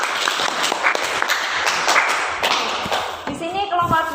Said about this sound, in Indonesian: Sekali lagi tepuk tangan untuk teman-teman kita